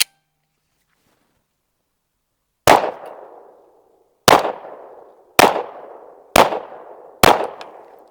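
Five sharp PE330 gunshots ring out at a range while sighting in on a target 15 yards downrange. Each crack comes alone with a short decaying echo, spaced about one to one and a half seconds apart.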